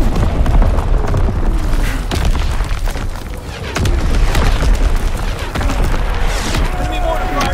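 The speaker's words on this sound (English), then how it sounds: "Incoming enemy artillery." Enemy artillery shells in Call of Duty: WWII free-for-all multiplayer burst as dense, continuous rumbling explosions, loud and heavy throughout.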